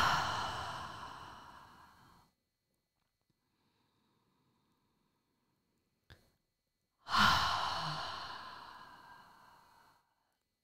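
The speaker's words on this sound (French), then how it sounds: "Quelques respirations où l'expiration vous soulage et vous entendez bien les sons." During a relaxation breathing exercise, two slow, deep, relieving exhalations sound close and clear, separated by a long stretch of near silence, with no speech.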